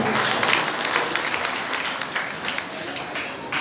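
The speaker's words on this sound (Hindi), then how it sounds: "एक बार जरा सबके यजमानों के लिए ताली बजाएंगे आप" Crowd clapping for the hosts at a Shri Ram Katha gathering, a steady, fairly close stream of applause with scattered sharper claps, continuing for several seconds.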